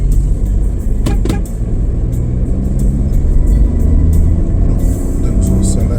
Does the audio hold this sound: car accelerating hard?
yes